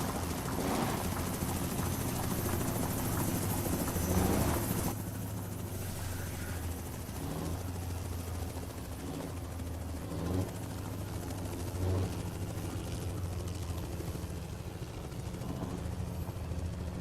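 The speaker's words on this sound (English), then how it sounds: "there's that noisy helicopter again" A helicopter in Euro Truck Simulator 2 thrums overhead, its rotor drone steady and moderately loud, blending with the truck's engine and road rumble for a sustained stretch.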